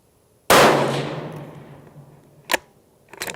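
A rifle fires steel-case ammunition: one loud, sharp shot with a long echoing tail, then two fainter, shorter knocks a couple of seconds later.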